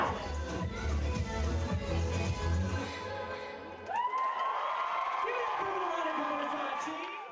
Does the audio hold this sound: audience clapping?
yes